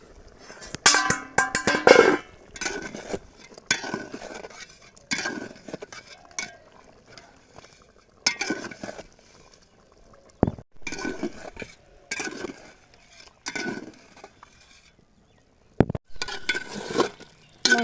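Meat cooks in a pot on a stove, with repeated bursts of stirring, scraping and metallic clinks against the pot, spaced irregularly over quiet gaps.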